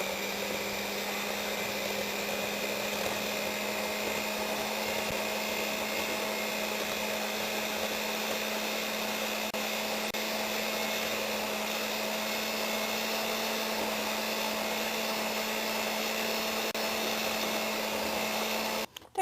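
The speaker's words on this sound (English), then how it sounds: "we're going to mix this together with an electric mixer" An electric hand mixer whirs steadily as it beats packed light brown sugar for egg-free maple cookies. The motor holds a constant, loud drone for the whole stretch and cuts out abruptly at the very end. No voices are heard.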